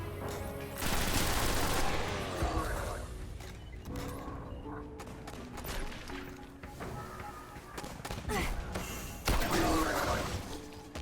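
Rifle fire in the video game Destiny: bursts of loud, rapid gunshots with sharp cracking impacts, coming in several clustered volleys with short lulls between them.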